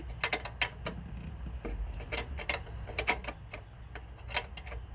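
A regular 10 mm wrench works a brake line fitting loose, making a series of sharp metallic clicks and taps at an uneven rhythm, close by with no talk.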